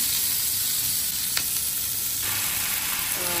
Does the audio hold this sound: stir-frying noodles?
yes